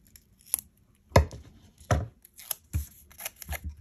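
Scissors snipping around a sticker on a sheet of paper for a planner spread, a few close, crisp cuts in an uneven rhythm with brief pauses between snips.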